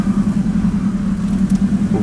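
A car engine holds a close, steady droning hum with a slight rhythmic pulse as the vehicle moves along, with no voices.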